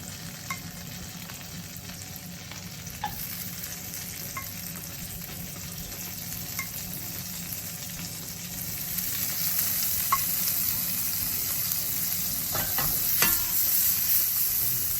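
Food pan-frying in butter with black pepper and garlic for a rack of lamb, a steady close sizzle that grows louder in the second half, with occasional clicks from tongs and stirring.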